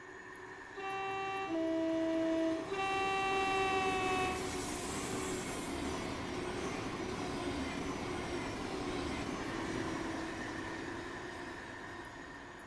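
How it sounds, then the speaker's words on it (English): Flying Scotsman steam locomotive and carriages passing on the East Coastway in Train Sim World 6: loud steady rumble of wheels on track, with a chorus of horn-like tones in the first few seconds, then a long continuous roll as the carriages go by. "when the train was going past then, but you kind of hear each carriage like separated"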